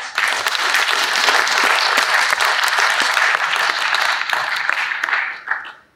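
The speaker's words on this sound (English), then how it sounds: "clap louder than you've ever clapped before!" A theater audience claps loudly and continuously, a dense, close burst of many hands that stays level for several seconds and then tapers off quickly at the end, with no talking.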